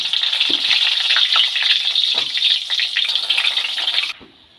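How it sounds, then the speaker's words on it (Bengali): Panch phoron spices, a dried red chili and a bay leaf crackle and sizzle loudly in hot oil for a Bengali chalta (elephant apple) pickle, a steady close fry that drops away abruptly near the end. "তেল গরম হয়ে গেছে তেলের মধ্যে দিয়ে দেবো পাঁচফোড়ন একটা শুকনো লঙ্কা দিয়ে দেবো আর একটা তেজপাতা"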